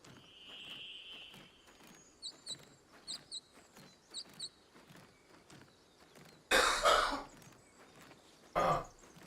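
A person coughs and clears their throat close to the microphone, with two loud, sharp coughs standing out above quiet background noise and small clicking sounds.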